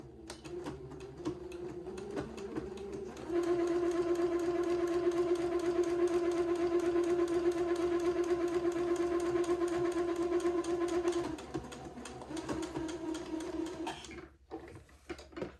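A sewing machine runs a small seam on a smocked bonnet, its motor giving a steady whirring hum with a fine tapping stitch rhythm that holds for several seconds before easing off into quieter handling noise.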